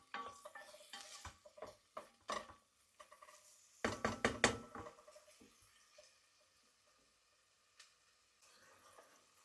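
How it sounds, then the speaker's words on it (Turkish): A spoon scrapes and clinks around a pot of lentil soup with bone broth in irregular bursts of stirring, with faint liquid sloshing between strokes and no talk. "Böyle karışırın ki dibi yanmasın."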